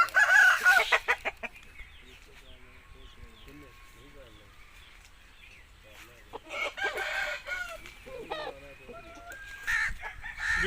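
An aseel rooster clucks and gives short calls nearby, with bursts of louder crowing-like cries, while someone talks over it at times.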